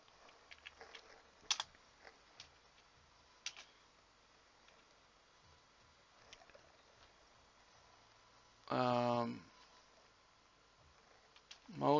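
Quiet clicks of someone typing on a computer keyboard in bursts, with one louder stretch of rapid key presses near the end, close by but faint against low room noise.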